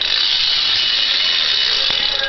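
Rear hub freewheel ratchet on a bike with a Mongoose stock frame and an Eastern hub, giving a rapid, continuous buzzing click that stays loud and close throughout.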